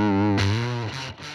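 An electric guitar runs through a Fender fuzz pedal with an octave effect, giving thick, buzzing distorted notes that sustain loudly and then shift pitch in a few chopped, gated bursts.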